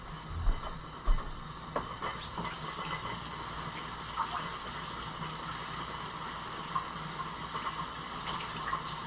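A hand is rinsed under a running kitchen tap after mixing in raw honey, giving a steady, fairly close rush of water for the whole stretch with a couple of brief knocks near the start and no talking.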